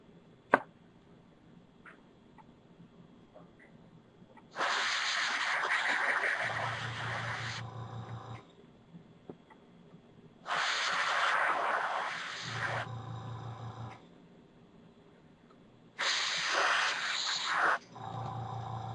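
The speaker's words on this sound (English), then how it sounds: "So that's sort of a quick demo on how the airbrush works." An airbrush spraying Copic marker ink onto a mini floral canvas hisses in three sustained bursts of roughly three seconds each, separated by quieter pauses with a low hum.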